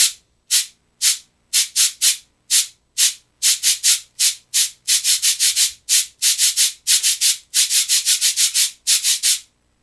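Dry scraping and sliding strokes from a cabasa, played alone in quick clustered rhythmic bursts with short gaps between groups, bright and fairly close.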